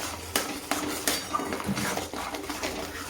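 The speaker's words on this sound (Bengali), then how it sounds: "আবারও ভালো করে কষবো" Ground coriander, garam masala, cumin, chili and turmeric being sautéed in a pan for paneer curry, with a spoon repeatedly clanking and scraping against the metal pan in a steady rhythm over a soft sizzle.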